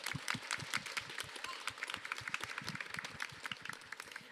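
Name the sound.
audience clapping at panel event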